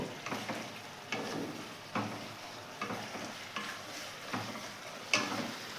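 Bottle gourd greens with lentil dumplings sizzle softly in a pan, with a spatula scraping and stirring in regular strokes about once a second, quiet and close.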